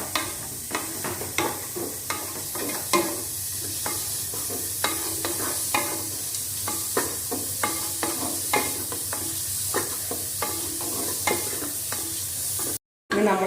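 Sliced onions sautéing in oil for a potato curry, a constant sizzle broken by regular scraping stirs of a spoon against the pan, close and alone, ending with a short cut.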